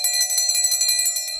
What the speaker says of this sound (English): Something more similar to a church bell, playing slowly, solemnly.